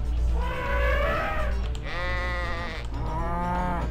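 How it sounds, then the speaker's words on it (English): A goat bleats loudly in a video game, several wavering harmonic cries in a row over a steady low background hum, with no talking. "that's a goat."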